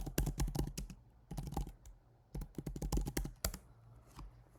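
A command is typed on a computer keyboard in quick, uneven bursts of close, crisp key clicks with short pauses between runs.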